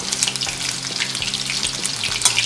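Chicken pieces for chilli chicken sizzle slowly in hot oil, a steady close crackle with scattered pops and some stirring noise, no voices.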